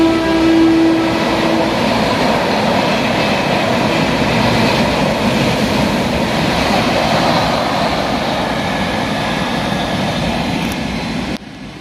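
A train rolls into a station with a steady, loud rumble and rattle of wagons on the rails, holding for several seconds before cutting off abruptly at the end.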